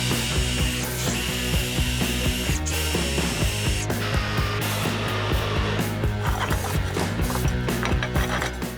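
Leg brackets being screwed into the underside of a simple lumber table desk, giving a steady run of close, busy ratcheting clicks and mechanical whirring that continues without a break.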